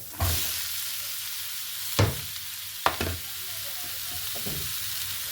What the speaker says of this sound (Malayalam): പാനിലേക്ക് ഞാൻ ചോപ്പ് ചെയ്ത് വെച്ചേക്കണ ഓണിയൻ ആഡ് ചെയ്യാണ്